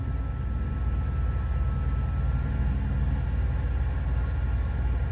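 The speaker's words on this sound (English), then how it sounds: "When the actual unit kicks in, the outside unit, it's louder than the truck" An outdoor air conditioner unit runs as a constant low mechanical drone, steady and unchanging throughout.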